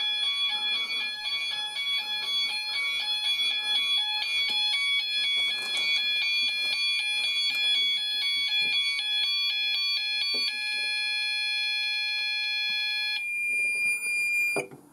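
SMS SenTRI fire alarm sounders blare during a system test with steady, overlapping electronic tones. Near-constant pulsing beeps sit alongside them, and the tones cut out near the end as the sounders are silenced.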